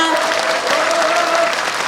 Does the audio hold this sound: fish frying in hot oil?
no